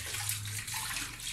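Tap water runs steadily into a kitchen sink as dishes are washed, a close, continuous rushing wash with no talk over it.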